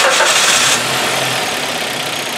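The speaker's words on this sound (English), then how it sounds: "So I'm going to start the engine again." A Hyundai i30 (FD) G4FA engine with fault codes P0016 and P0106 cranks and catches with a brief loud burst, then settles into a steady, smooth idle for the remaining seconds.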